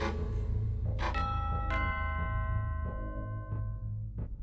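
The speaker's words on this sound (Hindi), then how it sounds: "ठीक उसी वक्त घर की डोरबेल बजी।" A doorbell rings out in a series of bright, ringing chimes that decay slowly over a low steady hum, several tones struck in succession.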